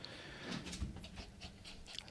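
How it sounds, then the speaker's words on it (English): A dog pants in quick, close breaths, a soft rhythmic huffing heard alone for a couple of seconds. "I got a dog getting in my face right now"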